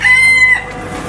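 A single loud, close chicken call, a drawn-out crow-like squawk that fades after about half a second.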